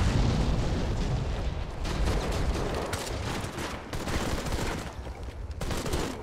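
Rapid automatic turret fire in the MC5 PC video game, a dense, loud stream of crackling shots with scattered booms, continuous throughout with brief pulses of louder bursts.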